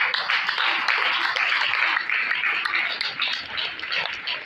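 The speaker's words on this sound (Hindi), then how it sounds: "एक जोरदार ताली चाहेंगे आपके स्वागत के लिए।" An audience at an ashram gathering gives a loud, sustained round of applause to welcome a speaker, dense clapping that holds steady and tapers slightly near the end.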